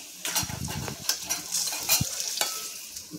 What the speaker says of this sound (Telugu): ఇక్కడ చారు మరుగుతుంది